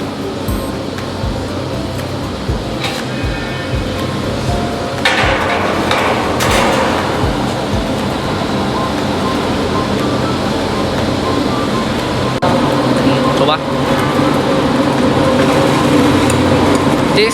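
A TDF flange forming machine for HVAC ductwork runs steadily, a loud continuous mechanical roar with occasional metallic knocks and clanks over it throughout.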